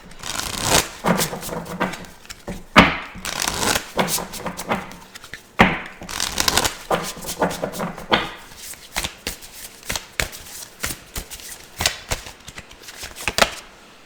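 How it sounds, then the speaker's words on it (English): A deck of tarot cards is shuffled by hand in repeated bursts of crisp riffling and soft slaps, close and fairly loud, with short pauses between rounds. "So let's go ahead and get some tarot cards."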